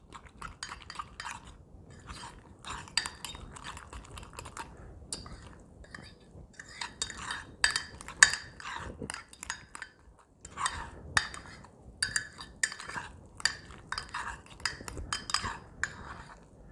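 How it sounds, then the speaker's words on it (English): A spoon stirs keto mug biscuit batter with cheddar cheese in a mug, giving quick irregular clinks and scrapes in bursts, fairly close, with pauses between and soft background hiss. "So then I'm going to mix that all together."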